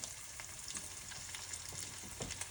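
Seasoned ground beef fries in a pot, giving a close, steady sizzle and crackle with scattered sharper pops and the occasional scrape of stirring.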